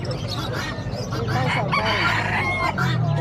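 A rooster crows loudly nearby amid clucking fowl and a busy background of people talking at a pet market in Bocaue.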